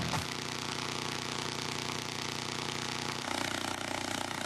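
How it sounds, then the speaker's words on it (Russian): A speaker cone driving car shampoo spread on plastic film at 30 Hz gives a steady, loud, buzzing rattle that runs continuously and shifts character near the end, with no talking. "звук, рожденный вибрацией 30 колебаний в секунду, то есть имеющий частоту 30 Гц."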